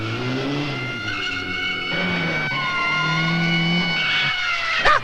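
A car braking hard with a long screeching skid, tyre squeal sweeping steadily over a few seconds, loud and close, ending in a brief burst.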